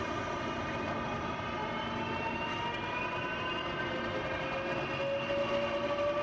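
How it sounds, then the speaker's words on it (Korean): A subway train runs in a steady, continuous rumble with a high whining tone rising slightly, loud and close throughout with no talking. "현대인의 바쁜 일상을 상징하는 지하철."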